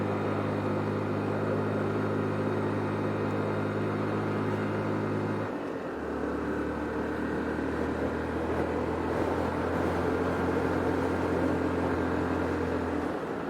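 Motorcycle engine with no tachometer straining hard up super-steep Dennytown Road, a loud continuous high-revving drone that shifts pitch midway and keeps pulling near the limiter, with wind noise and no talk.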